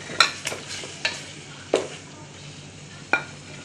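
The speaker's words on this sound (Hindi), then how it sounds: "मसाला भुन गया है, अभी हम इसमें चिकन डाल देंगे।" Chicken being stirred into fried masala in a pot: five sharp utensil clanks and scrapes at uneven intervals over a soft background sizzle, close and fairly loud, without speech.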